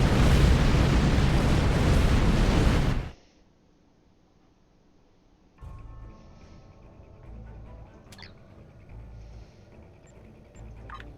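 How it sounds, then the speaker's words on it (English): A loud, dense explosion roars for about three seconds in the space game Star Trek Online, then cuts out, leaving a low hum with faint scattered pops and electronic tones. "Way too many explosions to be happening."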